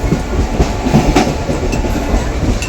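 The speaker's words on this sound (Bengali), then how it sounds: "সাঁতরাগাছি থেকে একদম দৌড়ে দৌড়ে ট্রেনে উঠেছি লোকালে এবার হাওড়ায় যাচ্ছি" A local train rolls toward Howrah from Santragachi, its steady rumbling and rhythmic wheel clatter filling the carriage continuously and fairly loud throughout, with no voices.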